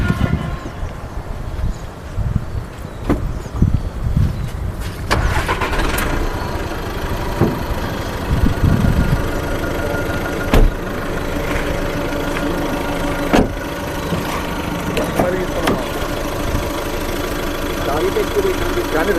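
A Volkswagen Polo car engine idles close by with a steady mid-pitched hum and occasional knocks and clicks, while people talk over it through much of the stretch.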